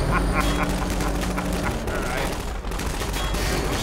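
Rapid gunfire from Half-Life 2 forms a dense, continuous barrage of overlapping shots and booms that fills the whole stretch at steady loudness, with game noise layered throughout.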